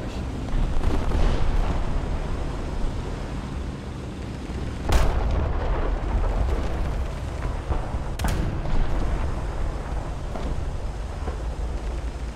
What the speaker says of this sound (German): Oh, jetzt schießen sie hier rüber.